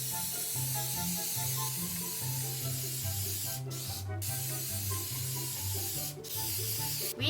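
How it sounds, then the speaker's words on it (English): Cooking spray misted into a muffin tin for corn dog muffins, a few short sharp hissing bursts close by, heard over a low background hum. "I'll spray."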